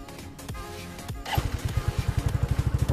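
A Vikrant V15 motorcycle engine cranks and fires up after a full home service, settling from a rough start into a steady, close thumping idle.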